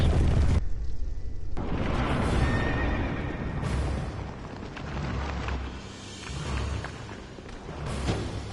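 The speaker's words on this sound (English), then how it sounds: "It's a horsey." A horse in the video game Dark Souls 2 whinnies loudly in a sustained, wavering neigh, with a deep rumbling game soundscape behind it and further swelling bursts later on.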